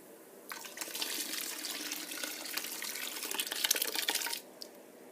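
Wine yeast being pitched into a batch of homemade wine during a 2014 vintage, with liquid pouring and swishing as it is stirred in: a close, steady splashing that lasts about four seconds, then stops abruptly.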